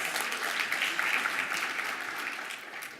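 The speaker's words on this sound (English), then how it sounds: "And another round of applause." An audience applauds Massachusetts Congressman Seth Moulton in a steady, dense wash of clapping that holds at an even level for about three seconds, with no voice above it.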